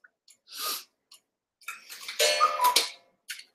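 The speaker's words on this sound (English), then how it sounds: "cuckoo clock is going off." A cuckoo clock goes off indoors with a burst of ticking, whirring mechanical clicks and short chimes, scattered bursts close by in an otherwise quiet room, with no talk.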